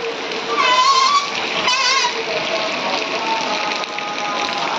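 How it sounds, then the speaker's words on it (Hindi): Steady rain pours down in Uttarakhand, a dense hiss of drops spattering on surfaces, with faint voices and birdlike chirps briefly rising above the downpour early on. "पूरी बारिश ही बारिश"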